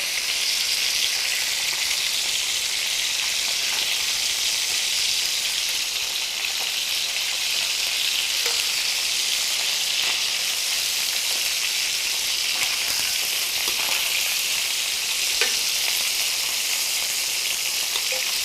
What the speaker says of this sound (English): All right, let's give this chicken a flip.